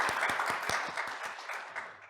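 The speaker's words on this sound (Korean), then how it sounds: "박수로 모셔보겠습니다." A seated audience at a Korean social innovation summit applauds a keynote speaker being welcomed on stage, a dense steady wash of many hands clapping in a hall that slowly fades.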